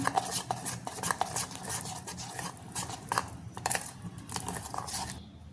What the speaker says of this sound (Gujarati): બધું બરાબર મિક્સ કરી લેશું।